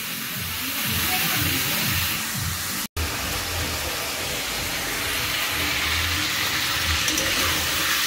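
Meat frying and sizzling in an open pan while being browned in a home kitchen, a steady broadband hiss that runs almost continuously, broken once by a brief cut, with a low voice murmuring underneath.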